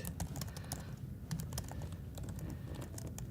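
Rapid, fast keyboard typing fills the whole stretch, a dense run of quick clicky keystrokes close by with steady room noise underneath and no voices.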